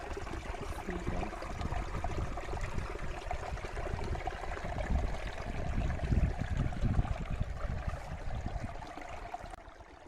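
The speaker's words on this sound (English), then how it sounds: "So guys, do you love this this small river or not? Like small waterfall." A small waterfall in a village pours with a continuous soft rushing and gurgling, steady and moderately distant, with no voices.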